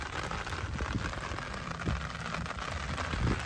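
Steady rain falls across the Brazilian sertão backcountry, a dense, continuous hiss of drops on the ground and surfaces with scattered heavier patters, close and even throughout, with no voices.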